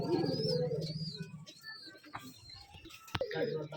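Rajshahi Giribaz pigeons coo softly at a farm, low throaty calls in the first second and a half and again near the end, with faint chirps and a sharp knock in between.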